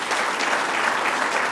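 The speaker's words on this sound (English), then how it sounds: "Let's give them another round of applause" An audience applauds at the grand opening of a lakeside lodge, a dense, even wash of clapping that fills the whole brief moment.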